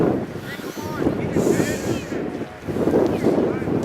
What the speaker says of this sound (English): There's a stiff cold wind blowing at us right now.